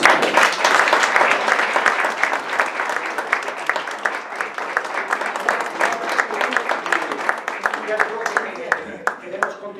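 An audience at a poetry evening claps for a Red Cross gold medal award, with dense applause breaking into distinct individual claps that thin out gradually, and voices murmuring underneath.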